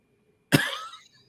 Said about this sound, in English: this cough is just not going away